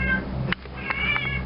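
A pet cat meows nearby indoors, with two or three short, fairly loud calls over a low background hum and no speech.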